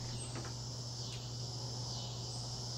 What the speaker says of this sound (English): You can hear the bugs.